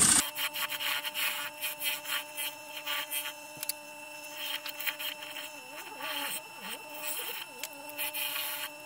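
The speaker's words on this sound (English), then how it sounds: "I'm going to be using a parting tool then to part down." A parting tool cuts into a green wood bowl spinning on a lathe, giving a steady scraping, rasping drone with a humming motor underneath, loud and close throughout, shifting slightly in pitch as the cut deepens.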